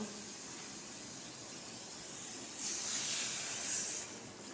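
Water poured into a pan of frying hog plums (amra) sets off a soft hiss that swells midway, rising over faint background noise and then easing off.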